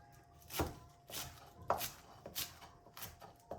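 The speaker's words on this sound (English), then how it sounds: "I'll take the stalks out and just cut some parsley. Just roughly chopped." A knife roughly chops fresh parsley with its stalks removed, four or five crisp taps on a cutting board spaced unevenly, close and fairly quiet, with no voices.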